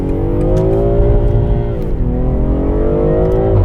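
A BMW M340i engine revving hard, its tone climbing steadily, dipping briefly as the gear changes, then rising again, loud and close inside the car.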